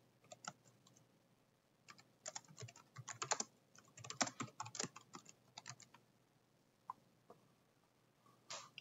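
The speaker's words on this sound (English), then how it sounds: "Now we are ready to write text to the display using our PC keyboard." Quiet, irregular clicking of keys as someone types on a PC keyboard, bursts of rapid keystrokes with short pauses, heard alone at close range.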